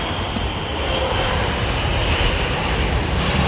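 Airliner landing in a crosswind at London Heathrow Airport, a loud, continuous broadband engine roar that stays steady throughout with no talk.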